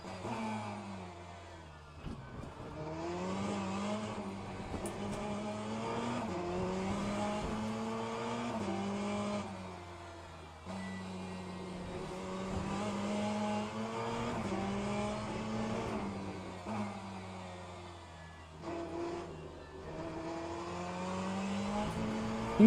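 A Ferrari race car in Le Mans Ultimate sprint racing screams through repeated upshifts and accelerations, its engine note rising in steady waves with brief lifts between, loud and close throughout.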